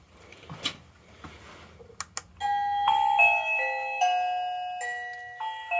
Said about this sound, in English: Go and press the doorbell.